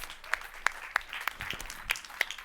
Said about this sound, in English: give them a round of applause and welcome them to the stage